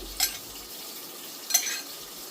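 Garlic and ginger with fenugreek frying in hot oil in a home kitchen give a quiet, steady sizzle, broken by two brief louder scrapes of a spoon stirring the pan.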